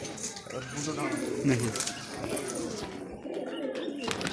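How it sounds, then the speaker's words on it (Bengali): Pigeons coo softly and steadily in a loft in Kolkata as they are let out to feed, with people talking and some background bustle mixed in. "পায়রাগুলোকে ছেড়ে খেতে দিয়ে"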